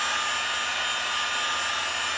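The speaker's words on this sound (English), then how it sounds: "I got this heat gun, but it'll work just as good." Heat gun blowing hot air onto wet metal during rust removal by electrolysis, a steady, loud, close whooshing roar that holds constant throughout, with no talking.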